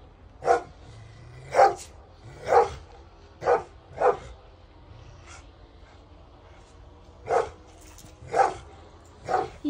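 A dog barking outdoors in the snow, about nine separate sharp barks spaced roughly a second apart, moderately loud against a quiet background.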